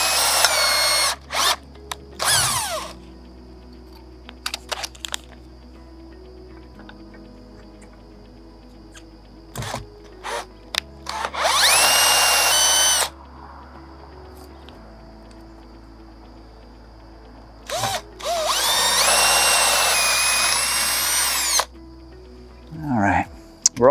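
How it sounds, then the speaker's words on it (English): Power drill boring a set screw hole into the underside of an aluminum handrail fitting: three sharp, loud bursts of high drilling whine, each lasting a couple of seconds, separated by quiet pauses with faint handling clicks. "come up underneath and drill for a set screw"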